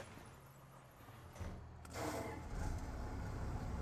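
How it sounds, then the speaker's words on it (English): Fendt tractor engine in Farming Simulator 25 cranking and catching, a soft click and starter burst, then a low rumble that swells into a steady idle, moderately quiet and with no talking. "Let's go get the Fendt fired up."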